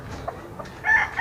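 A young gamecock stag at a mountain game farm lets out a short crow near the end, fairly close, after faint background clucks and quiet surroundings.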